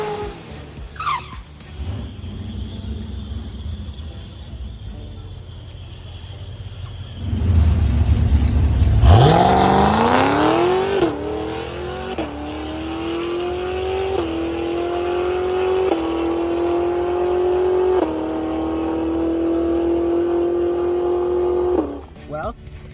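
A 900hp C8 Corvette at a track day launches with a loud roar, then its engine pitch climbs again and again through several quick gear shifts and stays close and powerful until it backs off.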